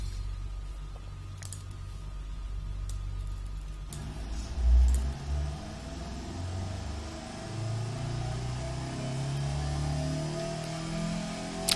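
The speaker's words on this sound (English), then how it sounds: "it's a 4-cylinder engine" A small four-cylinder car engine in the video game Automation hums steadily and revs up with a thin, buzzy whine, held at a moderate, even level with no one talking.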